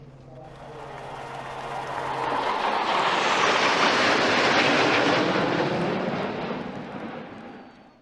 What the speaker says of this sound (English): Thank you very much, F-16s.